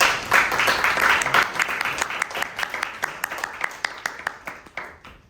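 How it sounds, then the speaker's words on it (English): Applause from a small audience at a Toastmasters club debate meeting, a dense patter of many hands that gradually thins into a few scattered, separate claps before fading out. "Round of applause. Guests can also clap."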